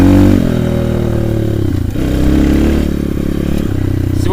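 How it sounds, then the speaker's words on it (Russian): A 2017 Avantis 150 Classic pit bike being ridden through a village, its engine loud and close with a steady droning hum that dips briefly near the middle of the ride. "Сегодня я на питбайке Avantis 150 Classic 2017 года."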